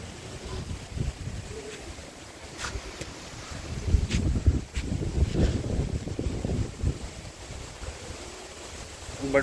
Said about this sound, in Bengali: প্রচন্ড রকমের বৃষ্টি বাতাস, একটু আগে বৃষ্টি ছিল, এখন বাতাস হচ্ছে